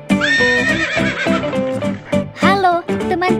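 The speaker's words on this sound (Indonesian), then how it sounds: "ini adalah kuda delman" A horse that pulls a traditional delman cart gives a long, loud whinny with a wavering, shrill pitch, followed by shorter neighs and snorts, heard close up.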